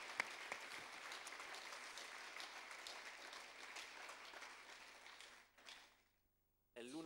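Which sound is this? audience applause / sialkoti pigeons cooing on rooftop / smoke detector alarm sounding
audience applause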